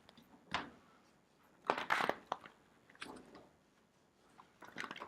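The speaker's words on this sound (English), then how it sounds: "Not the easiest deck to shuffle." A holographic mandala tarot deck is shuffled in a few quiet, separate bursts of card riffling and slapping, with pauses in between.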